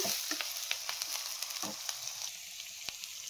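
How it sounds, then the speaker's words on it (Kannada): Crushed ginger sizzling and crackling steadily in hot oil in a pan, with occasional spoon scrapes and pops, close and alone without talk. "ಶುಂಠಿ ರಾ ಸ್ಮೆಲ್ ಹೋಗೋ ತನಕ ಫ್ರೈ ಮಾಡ್ಕೊಬೇಕು"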